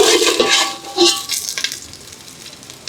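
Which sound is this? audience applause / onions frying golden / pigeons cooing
onions frying golden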